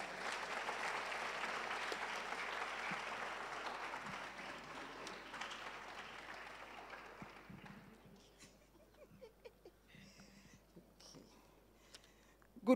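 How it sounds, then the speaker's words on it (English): Applause for a speaker giving the vote of thanks at a university research week event, a dense, fairly distant crowd clapping that fades out over several seconds, followed by quiet room noise and faint voices. "A round of applause for her."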